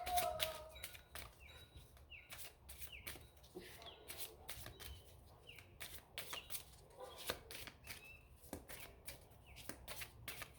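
Oracle cards from the Beyond the Fog and Shade deck being shuffled: a quick series of crisp riffling snaps in irregular bursts, faint and close, with no talk over them.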